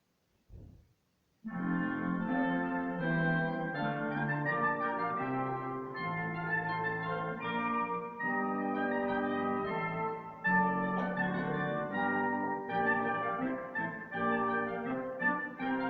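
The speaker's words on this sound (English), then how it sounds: "Together, the woodwind section sounds like this." A group of woodwinds plays together in sustained, layered harmony, a soft chordal passage that shifts gently over time after a brief opening note.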